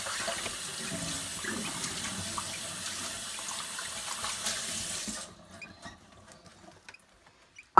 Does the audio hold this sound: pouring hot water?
yes